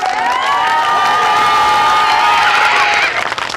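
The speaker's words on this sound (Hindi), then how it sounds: "इस बात पे एक जोरदार तालियां होनी चाहिए।" Supporters at a village mukhiya nomination rally in India cheer and shout loudly, a sustained dense crowd roar with whoops and some clapping, close and continuous throughout.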